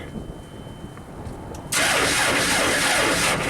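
A JLG baby scissor lift with a slow-crank and stall fault is heard first as faint low machine hum, then the engine cranks and catches abruptly, jumping to a loud, steady running roar close by.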